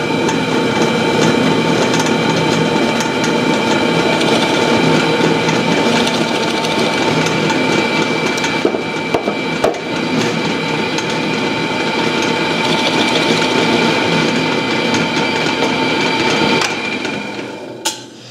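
A drill counterbores a hole with a 3/4 inch bit in a steady, continuous grinding whir lasting most of the time before winding down at the end.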